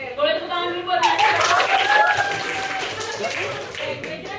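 Audience applauding for Nasya during a public speaking session, a burst of hand clapping from a small group mixed with talking voices.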